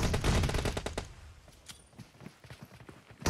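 Gunfire in a competitive video game match, a rapid burst of shots loudest at the start, then scattered cracks and footsteps trailing off before another loud hit at the end.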